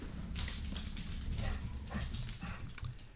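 A dog whimpers and yips in a series of short, high, whining cries, close but fairly quiet, over a low background hum.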